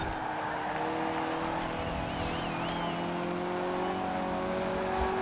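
Steady engine roar from several rally cars close behind in Forza Horizon 4, a continuous droning whine with rising pitch sweeps, loud and close throughout, no talking.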